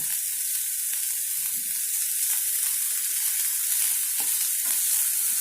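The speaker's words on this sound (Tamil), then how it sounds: "நல்லா ஃப்ரை பண்ணி விடணும். இன் பிட்வீன் கிளறி கொடுக்கணும்." Bread upma frying in a pan and being stirred, a steady bright sizzle with soft spoon scrapes now and then, close and even throughout, with no voices.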